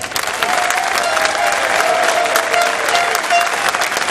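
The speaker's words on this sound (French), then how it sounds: "je voudrais que vous leur fassiez une ovation" An audience at a village festival gives a sustained ovation, loud dense applause from many hands continuing steadily throughout with a faint crowd murmur beneath.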